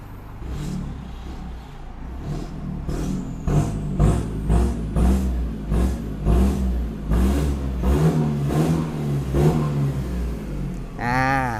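A white two-door lowered Isuzu X-Series Speed pickup engine is revved again and again in short bursts, each rising and falling in pitch, close and loud, ending with a brief whine.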